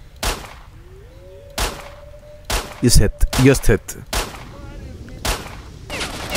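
Shotgun blasts from the video game S.T.A.L.K.E.R.: Shadow of Chernobyl, several loud sharp booms spaced irregularly with a quick flurry in the middle, mixed with game noise while someone talks over them.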